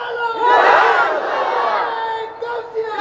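A large crowd chants a religious slogan together at an open-air religious gathering, a loud massed roar of voices swelling and fading over a few seconds.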